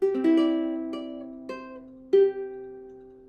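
Plucked ukulele notes from a fingerstyle measure of a song ring out one after another, about five clear picked tones with sustained overlap, close and clean with no talking.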